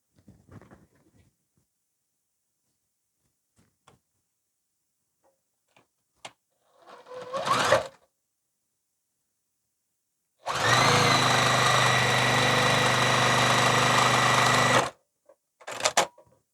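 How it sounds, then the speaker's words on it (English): A sewing machine runs steadily for about four seconds as a row of quilt seams is stitched, a close, loud, even whir, preceded by soft fabric handling and clicks and followed by a brief rustle. "So let's sew the rest of this row."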